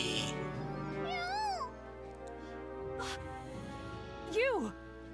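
A cat meows in the video game Super Neptunia RPG: two rising-and-falling cries, the first short and the second louder, set against sustained game music.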